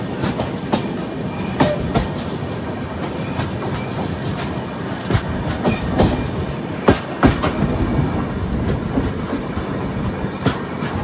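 A Pune–Ernakulam Superfast Express runs along the Konkan Railway, with a steady loud rumble and repeated clickety-clack wheel beats over rail joints, heard close from inside the train and without voices.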